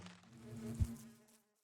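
A bee buzzing in the video game Minecraft, played with the All The Mods 9 modpack: a short, soft, droning hum that swells briefly and then fades out.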